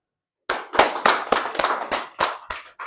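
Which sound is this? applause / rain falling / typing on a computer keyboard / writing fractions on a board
applause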